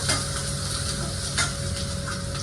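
Ingredients for a Bengali fish curry fry hard in a pan with a continuous sizzle, and a spoon scrapes through them in a few short stirring strokes. No voices are present.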